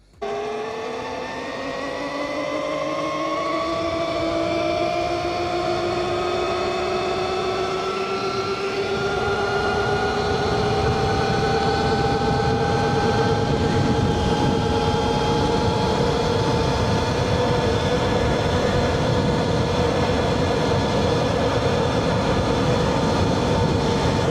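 A 72V Rawrr Mantis X electric motorbike runs at top speed in Eco mode, its motor whine rising in pitch and then holding a steady high tone over constant wind rush, loud and close throughout.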